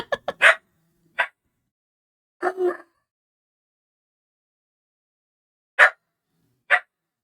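Sadie, a dog, gives sharp barks indoors: a quick cluster of three or four at the start, then single barks and a double bark separated by silent gaps. They come at moderate loudness and sound fairly close.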